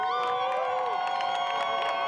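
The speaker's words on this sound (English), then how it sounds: "we were there when some of them were released to cheers and applause" Crowd of students and supporters cheering, whooping and applauding as arrested campus protesters are released in the evening at UC San Diego; a dense, steady wall of high-pitched shouts and cheers sustained throughout.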